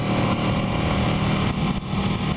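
A sport motorcycle engine pulls hard under load while riding, one of a Panigale 899, KTM RC8 or S1000RR superbike, as a steady, loud, rough drone running throughout with slight dips.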